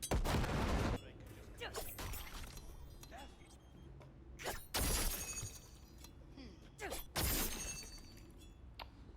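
Explosions and gunfire from Cyberpunk 2077 erupt in three loud bursts with rapid crackling shots between them, set against a noisy game background with voices underneath.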